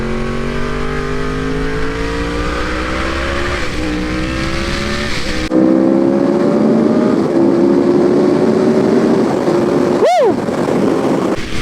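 A 2015 Yamaha R1 sport motorcycle accelerates hard, its engine climbing steadily through the revs with a gear change partway, loud and close with heavy wind roar.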